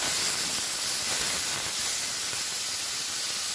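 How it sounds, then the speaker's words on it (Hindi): Tomatoes hit a hot pan while cooking spiced potato sabji with hing, producing a loud, continuous broadband sizzle and hiss that stays steady throughout with no voices. "अब मैंने टमाटर डाल दिए हैं।"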